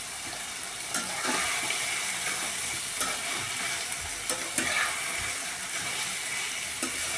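Chicken pieces frying in a pan for biryani, with a steady close sizzle and occasional stirring scrapes, no talking.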